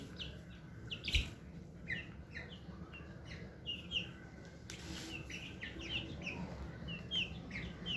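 Young chicken chicks kept indoors on jute bedding with a food bowl give repeated high chirps and peeps, scattered and fairly close, over a low background hum with no talking.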